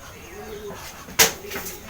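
Racing pigeons released at a race release point: soft cooing and a sudden burst of wing flapping, faint and close, with a quiet tonal hum behind.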